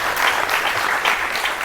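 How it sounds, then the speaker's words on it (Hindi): A short burst of enthusiastic audience clapping welcomes guests onto a Hindi TV news debate, dense and fairly close, with no voices over it. "जोरदार तालियों के साथ स्वागत कीजिए"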